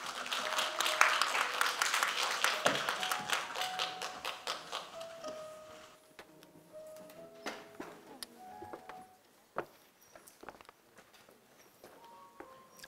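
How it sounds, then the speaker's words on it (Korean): An audience at a science lecture claps loudly at first, the applause thinning out into scattered taps and a few final claps before quiet. "이대희 연구원님께 큰 박수 부탁드릴게요"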